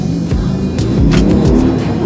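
Harley-Davidson V-Rod motorcycle engine running loud and close, a throbbing pulsing rumble with rhythmic revs over roughly two seconds, no talk.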